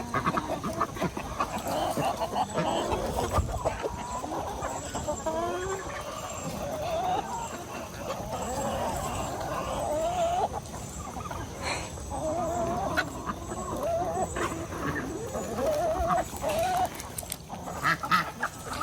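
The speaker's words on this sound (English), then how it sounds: "You can see why I love chickens," A flock of chickens of many breeds and colours clucks and squawks busily at feeding time, with overlapping calls coming thick and close and without pause from start to finish.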